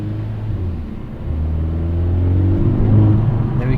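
Mercedes-AMG A45 S with its 2.0-litre four-cylinder engine in Sport Plus mode, heard from inside the car with a window open as a deep, steady engine drone rises gradually while the car pulls.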